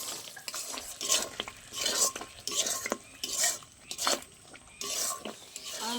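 Spice masala for a paneer egg curry is stirred and sautéed in a pan, the spoon scraping and knocking against metal in repeated bursts over a light sizzle.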